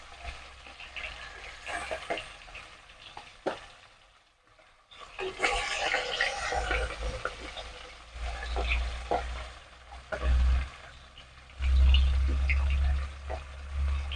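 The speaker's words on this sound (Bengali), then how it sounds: "এবারে মাছগুলোকে এক এক করে আমি তেলের মধ্যে দিয়ে দেবো।" Rohu fish pieces go into hot oil and fry with a sizzle that starts mid-clip after quieter handling sounds, then stays broad and steady, with some low bumps of the pan.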